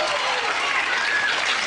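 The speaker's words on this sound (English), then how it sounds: "got the big crowd cheer though." A large studio audience breaks into dense, sustained applause and cheering, loud and close, holding steady for the whole short stretch.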